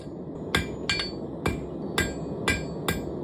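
Hot steel hammered on an anvil to forge the shoulder of a spatula, six sharp ringing blows at a steady rhythm about half a second apart, close and loud over a low background hum.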